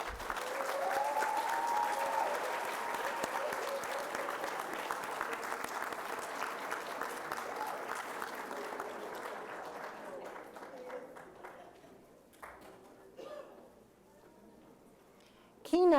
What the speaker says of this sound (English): Please join me in giving everyone a round of applause.